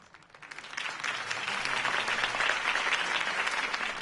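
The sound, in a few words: crowd applauding a campaign speech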